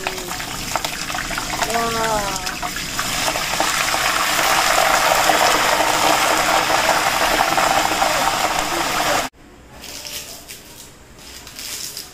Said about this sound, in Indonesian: Langsung buat goreng daun jeruknya teman-teman.